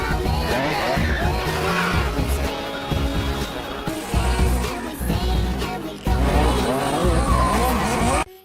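Race cars compete in a film scene, with loud, continuous engine roar, squealing and skidding tires, and dense overlapping vehicle noise that barely lets up.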